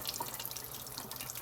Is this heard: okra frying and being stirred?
no